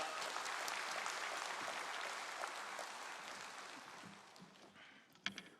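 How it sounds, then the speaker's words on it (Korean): A church congregation gives welcoming applause for a pastor at a Sunday mission service, steady dense clapping that slowly thins and fades out, fairly distant and soft. "우리 목사님 나오실 때 환영의 큰 박수 보냅니다."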